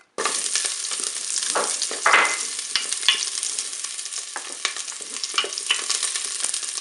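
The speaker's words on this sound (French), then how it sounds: "Là, je vais mettre mes oignons bien dans la cuve." Chopped onions sizzle in hot olive oil inside a Cookeo multicooker pot, a steady loud frying hiss with scattered crackles and pops, occasional stirring scrapes, and no talking.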